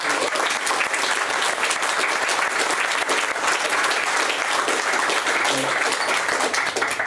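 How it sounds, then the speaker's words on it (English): A live audience at a small show bursts into sustained applause for the host, dense clapping holding steady and loud from start to finish. "Can we have a big round of applause as well for Bedlam Squalor for hosting our show?"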